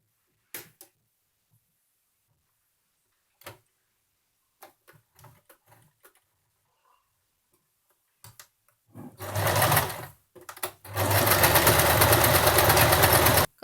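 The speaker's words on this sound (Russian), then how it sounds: "И теперь тоже прострачиваем на расстоянии полсантиметра от края" A sewing machine runs steady, close bursts of stitching along a seam half a centimetre from the edge of a baby's envelope blanket, first in a short run, then in a longer continuous stretch after scattered light handling clicks.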